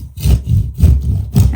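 A knife saws through a large 6.5 kg fish being cut up at home, in loud rhythmic strokes of rough, rasping scraping, about four pulls in quick succession.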